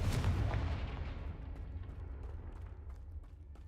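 Fiery Confringo spell blast in the video game Hogwarts Legacy, a loud booming burst at the start whose low rumble and crackle slowly decay over several seconds with no talk.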